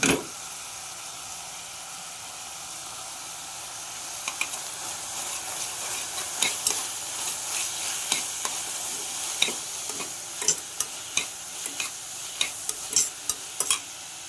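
Onion, garlic and green chili paste sautés in a pan for prawn biryani, giving a steady soft hiss. Scattered scraping clicks from stirring become more frequent over time.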